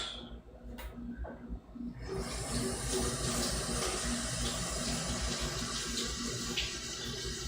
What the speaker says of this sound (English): Do a quick rinse.